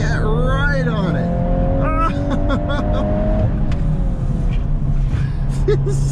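A 2022 Volkswagen Golf R is driven hard on a wet road, its engine droning loudly from inside the cabin with rising and falling revs, along with tyre noise and occasional squeaks and rattles.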